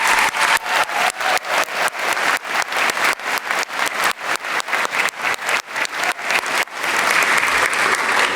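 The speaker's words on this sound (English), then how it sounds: "Please join me in a great round of applause" Loud, sustained audience applause at a master's commencement ceremony, a dense crowd of hands clapping in a rhythmic, pulsing pattern that swells into an even roar near the end.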